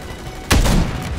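A single sharp gunshot in Modern Warfare III, a loud sudden crack with a short booming tail after a quiet moment.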